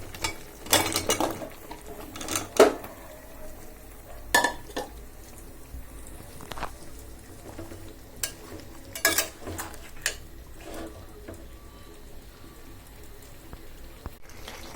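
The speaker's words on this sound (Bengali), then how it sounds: "এবার আমি কেটে রাখা লাউগুলো দিয়ে দিচ্ছি।" Chunks of bottle gourd tipped into a frying pan of spiced masala, giving scattered clatters, stirring scrapes and light sizzle in bursts over a quiet background.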